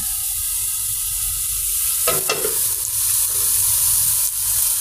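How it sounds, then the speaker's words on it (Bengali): Lentil fritters (dal bora) sizzle steadily in hot oil in a pan, a close continuous frying hiss with a brief scrape of stirring midway and no talk. "আর বড় ভাজা এই কটা হলেই হয়ে যায়"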